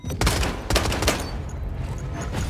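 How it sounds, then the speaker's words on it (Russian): Dense bursts of automatic gunfire from the video game Lost Light, several rapid volleys close and loud, with no talk over them. "Они стреляют"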